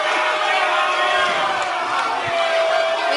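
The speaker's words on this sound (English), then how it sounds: "The crowd's booing." Large audience booing loudly and steadily throughout at a man blowing a whistle on stage during a talk show taping, a dense continuous crowd roar with no breaks.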